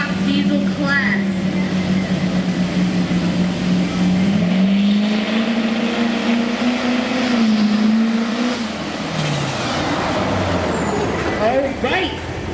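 Stock diesel pickup trucks drag racing at a 2020 truck and tractor pull event, with a loud engine drone rising and holding in pitch before fading, mixed with crowd and announcer speech.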